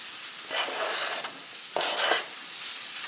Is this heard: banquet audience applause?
no